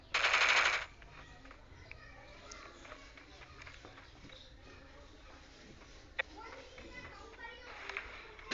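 Gunfire in the video game Free Fire during a tournament match: a loud, dense burst of rapid automatic fire opens, followed by scattered fainter shots and footsteps, with commentary voices over the game sounds.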